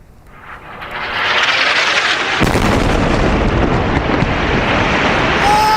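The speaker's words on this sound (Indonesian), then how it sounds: "Sebuah rekaman video menunjukkan ledakan akibat serangan udara Israel menghantam sejumlah gedung yang berada di pinggiran selatan Beirut, Lebanon" A heavy explosion from an Israeli airstrike hits buildings in Beirut's southern suburbs, building into a loud, sustained roar with a sharp blast midway and a long rumbling aftermath.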